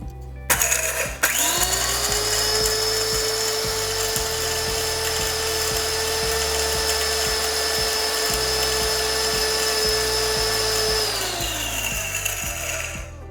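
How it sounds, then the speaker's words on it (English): An electric spice grinder whirring steadily for about ten seconds as it breaks down a handful of whole garam masala spices, with a faint rattle of pieces inside before it winds down. "I'm going to add a handful to the grinder and show you how it only takes less than a minute to break this down."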